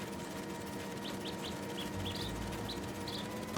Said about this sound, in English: the white-throated bee-eater bird